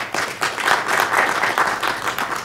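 An audience at a university address in London claps in a dense, steady round of applause, moderately loud and continuous, with no voice over it.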